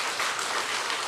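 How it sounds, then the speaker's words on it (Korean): A church congregation claps for its young people, a dense, even wash of applause filling the whole moment at moderate loudness, with no voices above it. "우리 청년들이 좋은 하나님의 일꾼 되어질 수 있기를 위해서 한 번 더 격려의 박수 해주시기를"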